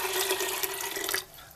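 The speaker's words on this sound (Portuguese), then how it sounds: "Vamos cobrir ele com água, ó." Water runs steadily into a pressure cooker to cover dried chickpeas, a close, continuous pouring rush that cuts off near the end with no voices.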